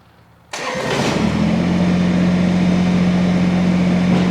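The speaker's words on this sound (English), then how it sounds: "So we're going to start the tractor." A Kubota BX compact tractor engine cranks and fires after a brief quiet moment, then settles into a steady, loud idle with a constant low hum.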